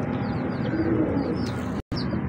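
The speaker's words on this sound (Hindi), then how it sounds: "ये 1 नंबर कबूतर हैं पुराने साधना, जिसे कहते हैं साधना।" Golden Sadhna pigeons coo softly and steadily in a continuous low murmur over a constant background, with a few faint chirps above and a brief dropout near the end.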